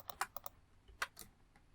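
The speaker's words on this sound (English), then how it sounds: "My mouse clicks and keyboard might be a little too loud." Several crisp computer keyboard keystrokes and mouse clicks in quick, uneven bursts, with a couple of sharper clicks among them, close and clear with no talking.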